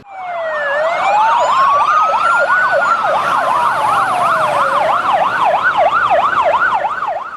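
Loud fire engine sirens wail close by, several overlapping tones sweeping up and down continuously with no talking, during a firefighter drill in Plzeň.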